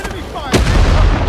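Enemy gunfire in the Vietnam War shooter Rising Storm 2: Vietnam: one sharp, loud shot cracks out partway through, followed by a booming rumble over an earlier muffled background.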